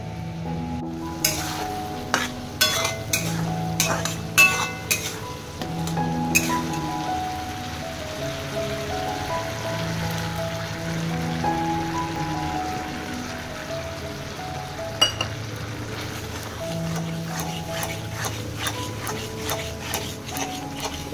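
Onion and raisin paste frying in a pan, a steady soft sizzle punctuated by repeated sharp ticks and clinks of stirring against the pan, with a musical tone humming underneath.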